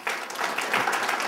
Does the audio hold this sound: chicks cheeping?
no